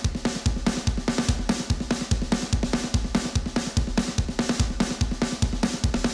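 A steady, driving drum train beat from EZdrummer software, with a fast shuffling snare pattern over a thumping kick, loud and continuous with an even chugging rhythm.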